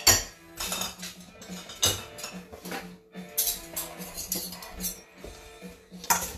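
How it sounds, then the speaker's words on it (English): Metal spoons picked up and knocked together in a home kitchen, a run of bright, close clinks and clatters in irregular bursts with a soft musical background underneath. "Then I'll get my spoons."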